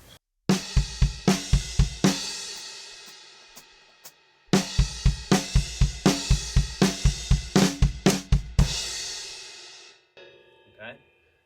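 A drum kit plays the middle-eight push section of a song, up close and alone: two bursts of loud, tightly accented hits with crashing cymbals, separated by a short pause, ending in a fading cymbal wash.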